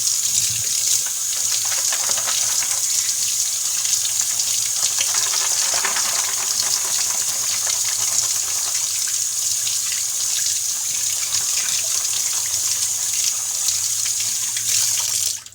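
Tap water runs steadily over Fluval 406 canister filter parts, a constant loud splashing hiss throughout that cuts off right at the end, with no talking.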